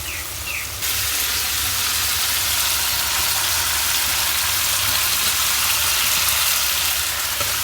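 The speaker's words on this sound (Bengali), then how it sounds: "বড়ইয়ের সাথে মাছটাকেও কষিয়ে নিতে হবে" Fish and jujube plums stir-frying in spices in a pan, a loud, steady sizzle that stays even and close throughout, with no voices over it.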